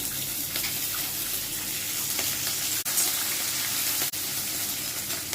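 Green chillies fry in hot oil for a roti pachadi, a constant close sizzling crackle with faint stirring underneath, broken by two brief sharp pauses.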